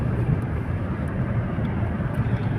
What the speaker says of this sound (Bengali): আপনারা দেখুন গাড়ির স্পিড এখন 60, গাড়ির স্পিড এখন 60+ চলছে গাড়ি